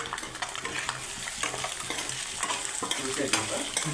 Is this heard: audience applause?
no